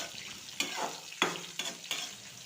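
Onion sizzling in a pan with chana dal and urad dal, a soft continuous frying hiss broken by four sharp stirring scrapes at irregular intervals, close by with no voices.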